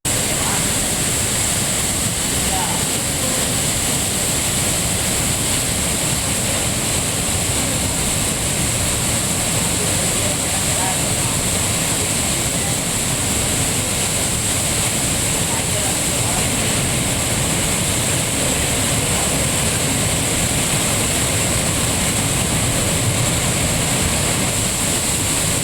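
Courtallam waterfalls in Tenkasi district, swollen by continuous rain in the catchment, pour with a steady, dense roar of falling water that holds unbroken and loud for the whole stretch.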